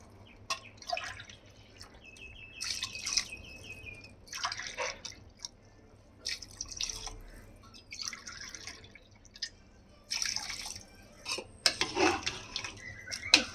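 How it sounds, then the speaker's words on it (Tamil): Water poured from a tumbler in repeated bursts into a pot of seeraga samba rice for chicken biryani, splashing and trickling with brief pauses between pours, fairly quiet and close. "எட்டு டம்ளர் தண்ணி ஊற்றியாச்சு"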